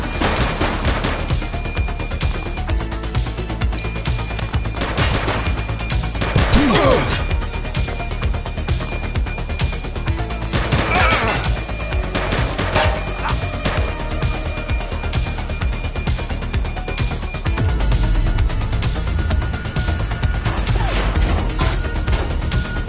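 Gunfire and crashing impacts ring out in a shootout in The Precinct, a police game, with several loud bursts and bangs over a constant noisy backdrop and occasional voices talking.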